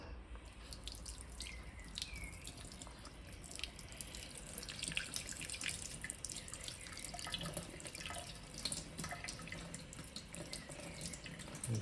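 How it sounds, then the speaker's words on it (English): Tap water runs steadily into a sink while a clogged, gooey windscreen washer pump filter from a BMW Z3 is rinsed under it, a continuous splashing rush with faint drips and no speech. "Okay, let me properly finish washing that without the phone in my way."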